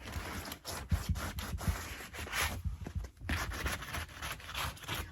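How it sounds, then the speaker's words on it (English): A painted Louis XVI wooden chair is given a quick hand sanding, with close, rhythmic rasping strokes repeating steadily with brief pauses between passes. "So I'm going to give the whole thing a quick sand."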